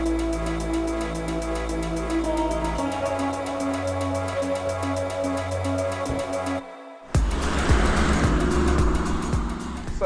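An Audi SQ7 twin-turbo V8 diesel SUV drones steadily as it drives, the engine note dropping in pitch partway, then a brief hush before louder road and engine roar takes over, with no talk.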